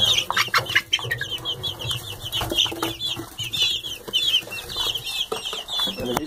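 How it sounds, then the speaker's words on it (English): Two-week-old Barred Rock chicks cheep and cluck continuously in a rapid, high chirping chorus, with faint wing flutters and some background movement, close by and fairly loud. "we heard that barred rocks are the friendliest birds we can buy"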